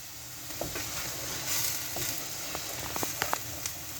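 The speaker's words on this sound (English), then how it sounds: "give that a good stir" A spoon stirs spices into cooked tomatoes in a pan, giving faint, soft scraping and light sizzling with a few quiet clicks, no voices present.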